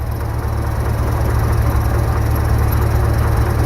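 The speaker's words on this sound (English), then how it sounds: "The noise you're hearing now is the alternator." A loud, steady 289 engine running close by with a continuous mechanical whine and grinding hum from a failing alternator bearing, no pauses.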